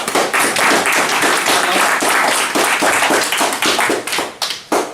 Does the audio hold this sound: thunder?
no